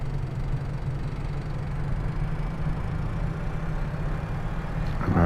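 A Valtra tractor idles in Farming Simulator 22 with a steady, quiet low engine drone that holds even throughout, rising slightly at the very end.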